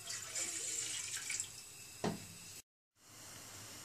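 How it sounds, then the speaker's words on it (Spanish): Tap water runs into a cooking pot in a home kitchen, a steady close hiss of flowing water with a brief clunk near the end before a short cutout, then faint room noise. "Ponemos el agua y esperamos que hierva."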